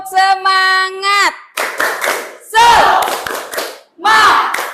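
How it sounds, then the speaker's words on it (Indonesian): A group performs a rhythmic spirit clap before presentations, loud shouted chanting voices alternating with sharp bursts of clapping in a call-and-response pattern, close and energetic. "Tepuk semangat."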